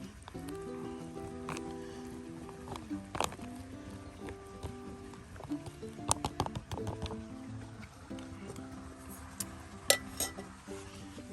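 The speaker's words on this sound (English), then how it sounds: "We'll mix this up a little bit." A long-handled spoon stirs and scrapes camping food inside a bag, giving scattered soft clinks, rustles and knocks at close range with no voices.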